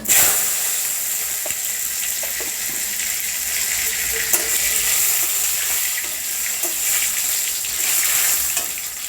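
Tomato drops into hot oil with white cumin in a village kitchen, giving a loud hissing sizzle that holds steady for about nine seconds, with faint scattered clinks and no talking.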